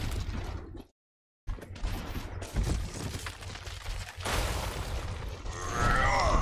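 Gunfire in Overwatch aimed at Reinhardt's shield, a dense run of rapid shots and impacts after a brief silent gap, loud and busy with game effects layered in.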